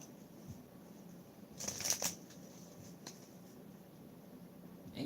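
A deck of cards is shuffled in two quick riffling bursts against a quiet background, followed by a few soft taps and clicks.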